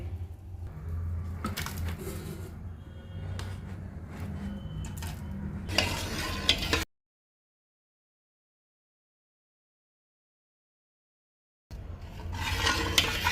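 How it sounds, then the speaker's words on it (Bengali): Rice and milk are stirred into date palm juice in a pot, giving repeated scraping and sloshing strokes up close. Full silence breaks in midway before the stirring resumes. "ভালো করে রসের সাথে মা দুধ আর চালটাকে মিশিয়ে নিচ্ছে"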